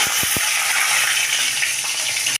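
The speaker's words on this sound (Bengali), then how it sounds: "তেলে তেজপাতা, সাদা জিরে আর এই লঙ্কা ফোড়ন দিলাম" Bay leaf, cumin and chilli hit hot oil and crackle loudly in a dense, steady sizzle, with a few quick pops at the start and nothing else over it.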